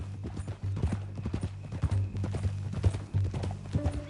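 A horse walking, its hooves clip-clopping in an uneven rhythm at close range, moderately loud, with faint background noise.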